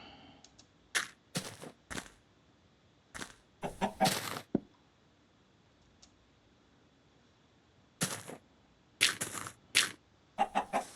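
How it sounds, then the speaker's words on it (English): Chickens cluck in Minecraft Alpha v1.0 on a coastal expedition, heard as scattered short bursts separated by quiet gaps. "It'd almost be worthwhile killing the chicken."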